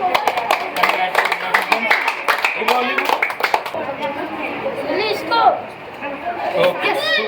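A small outdoor crowd gathered around a street cool drink bottle matching game claps briefly in scattered bursts, mixed with chatter and a voice talking over the claps.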